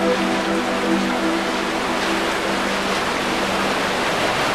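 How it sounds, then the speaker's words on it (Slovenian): Mine water rushes steadily through underground workings toward the lower tunnels beneath Peca, a loud, unbroken broadband roar like a waterfall, with a faint low hum and no talking. "Voda dobesedno dere skozi odkope proti spodnjim rovom."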